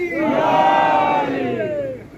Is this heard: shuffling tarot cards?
no